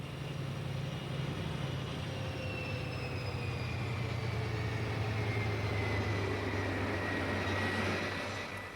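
A high-speed diesel-electric train runs past with a continuous low engine drone and rolling rumble, steady and moderately distant, with faint high whines drifting over it throughout.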